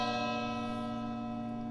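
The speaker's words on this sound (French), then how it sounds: "Vous avez cet énorme gong qui résonne." A huge gong resonates with a steady, sustained ringing tone made of layered overtones, heard alone and slowly fading.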